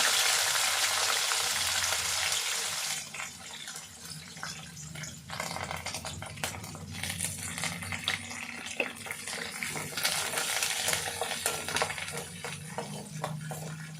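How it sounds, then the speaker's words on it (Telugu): Loud hissing sizzle at first, settling into a steady crackling fry of onions, green chillies and curry leaves in hot oil with scattered pops and occasional clinks. "ఉల్లిపాయ వేగిపోతుందండి"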